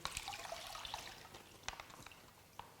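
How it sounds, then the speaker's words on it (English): Chicken stock is poured into a pot for a one-pot chicken soup, giving a soft, steady trickle and splash that stays quiet throughout, with no talking. "So I'll just pour those in, and if we need to add water, we'll just add some water in."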